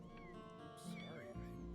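A stray cat in a video game lets out a drawn-out meow, short and close, set over a low musical background with a voice speaking around it.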